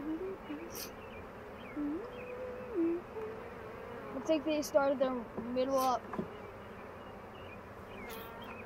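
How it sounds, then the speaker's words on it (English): Honey bees buzz steadily around an open hive during an inspection, with individual bees whining past close by while people talk over the hum. "We'll get some of these bees back in the hive."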